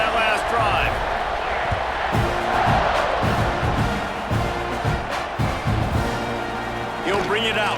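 A stadium crowd in EA Sports College Football 26 roars and cheers in a sustained swell, rising and falling around kickoff, with thumping hits and whoops, under game commentary.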